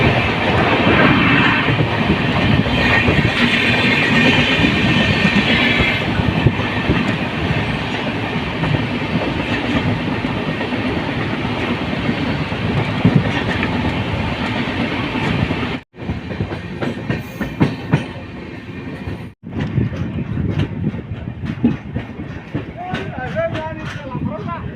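Brahmaputra Mail train passing beneath a railway overbridge at Changsari, a loud, steady rumble of rolling wagons with clattering wheels, close by and continuous, briefly cut twice near the end, with voices talking over it.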